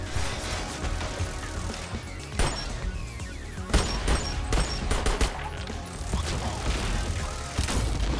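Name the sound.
gunfire in the video game Sentry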